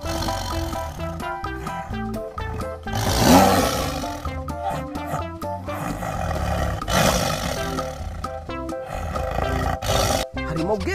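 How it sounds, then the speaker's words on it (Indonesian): A tiger lets out two loud, rough roars a few seconds apart, set against a busy, rhythmic background. "Di sini ada harimau."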